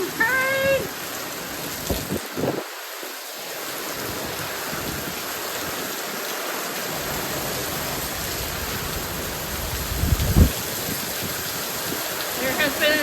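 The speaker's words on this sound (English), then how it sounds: "Finally get some rain." Steady rain falls through the whole stretch, a dense even hiss on surfaces, loud and close, with a few louder splashes and knocks and a brief higher squeak near the start.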